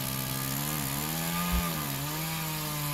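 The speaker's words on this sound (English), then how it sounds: "Here we're sawing a cherry log into a 6-foot piece." A Woodland Mills sawmill blade cuts through a cherry log, giving a steady, loud, droning hum with a slight pitch dip midway and a brief low thump near the middle of the cut.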